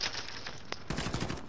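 Rapid gunfire in a first-person shooter video game, loud and close, with dense bursts of automatic shots that begin about halfway through and keep rattling to the end, with no voices over it.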